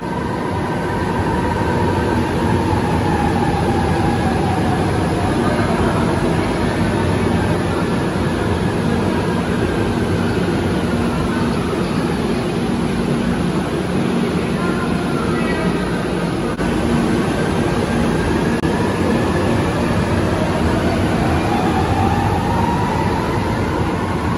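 An MRT-7 train at Batasan station in Quezon City produces a loud, continuous rumble and rushing roar with faint sweeping tones rising and falling, sustained for the whole stretch without a break.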